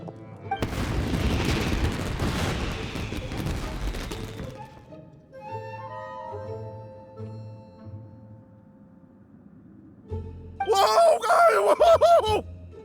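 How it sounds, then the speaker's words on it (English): Fireworks burst in Genshin Impact with a dense crackling barrage, then quieter popping and a soft melodic chime, followed by a final bright sparkling flurry of crackles. "Yoimiya, this is turning into a bit of a fireworks display."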